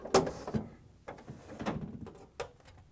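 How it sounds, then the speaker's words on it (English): GE freezer door opened and chiller shelf slid out during an appliance repair, heard as a few close, separate clunks and plastic scrapes spread over three seconds with quiet gaps between them. "Open the freezer door, pull out the chiller shelf"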